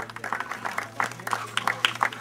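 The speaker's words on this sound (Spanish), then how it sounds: "Un aplauso." Scattered applause and clapping from a crowd at a village festival sports event, uneven bursts of hands with some voices mixed in, moderately near.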